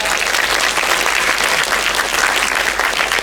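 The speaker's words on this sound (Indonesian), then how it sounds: "Tepuk tangan semua." Crowd at the opening ceremony of the Madani International Film Festival claps together in a loud, dense burst of applause, sustained evenly with no break.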